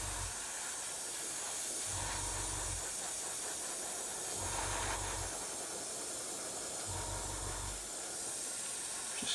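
A spray can sprays paint onto a model kit engine, a steady close hiss running throughout, with a low periodic hum pulsing in and out about every two and a half seconds beneath it.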